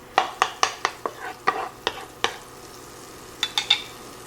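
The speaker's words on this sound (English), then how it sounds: "I hear the sizzle." Butter and a little oil in a cooking pot, with a series of sharp, close clinks and scrapes of a spoon stirring against the metal, spaced irregularly and fairly loud, with a light sizzle underneath.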